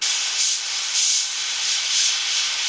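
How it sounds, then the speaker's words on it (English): An airbrush sprays paint in short bursts along an edge of a skull-and-gears design, a close, steady airy hiss that swells three times. "I'm just going to spray a little bit right at that edge."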